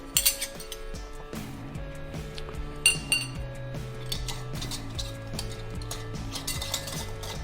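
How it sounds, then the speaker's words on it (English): Glass canning jars being closed with screw cap lids, a series of close, sharp clinks and clatters of glass and metal in irregular rhythm, no talk. "So now we're gonna close the jars with our sunny cap lid."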